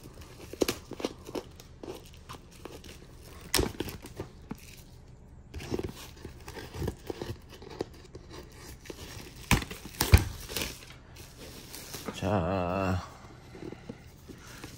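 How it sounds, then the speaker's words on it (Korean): Packaging for an Aim Smarty CAM 3 Corsa camera being torn and unwrapped, with close crinkling, crunching and ripping of plastic and cardboard in scattered bursts, plus a longer tearing stretch near the end. "그래서 이제 뜯어볼게요."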